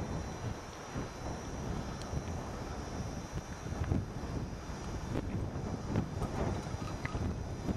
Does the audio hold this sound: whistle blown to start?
no